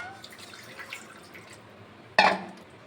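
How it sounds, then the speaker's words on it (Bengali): Water splashes from a tap onto a plate in a home kitchen, one sudden close burst after quiet room tone. "প্লেটে জল দিয়ে দিচ্ছি"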